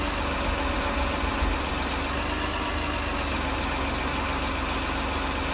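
A tractor engine in a farming video game idles in a steady, even low drone, holding constant and unbroken with no voices over it.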